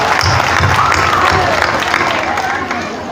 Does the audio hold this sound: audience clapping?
yes